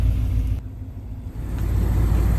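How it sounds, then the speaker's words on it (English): A truck engine rumbles low and steady as the vehicle maneuvers out of a tight spot in a Utah desert slot canyon area, close and continuous with a slight rise in revs near the end. "going to try and get the truck out of this very tight spot"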